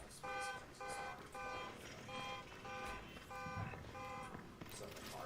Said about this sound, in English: Some of the cars still have alarms, so like that's what happened.